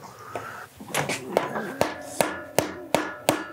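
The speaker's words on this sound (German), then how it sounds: "Ich kann ja hier auf die Welle hauen" A hammer strikes a metal shaft on an Ironhead Sportster motorcycle with a damaged gearbox in a steady series of sharp, ringing blows, about six evenly spaced hits, close and loud.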